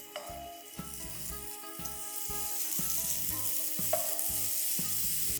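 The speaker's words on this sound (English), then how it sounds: "Let's start by sizzling the guanciale in a pan." Guanciale sizzles and crackles steadily in a hot pan, close up, with occasional scraping clinks of a utensil stirring.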